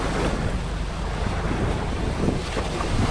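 Choppy sea waves during island hopping to Cuatro Islas in the Philippines, a constant loud rush of water and boat noise with heavy wind buffeting the microphone.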